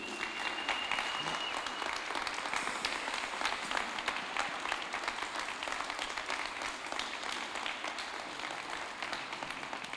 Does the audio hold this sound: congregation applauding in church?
yes